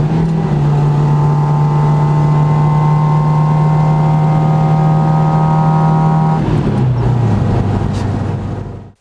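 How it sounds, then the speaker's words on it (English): Saab 96 two-barrel car engine pulling steadily in third gear, a loud close droning hum holding one pitch, then dropping in tone near the end as the revs fall before fading out. "Let's put it in the third."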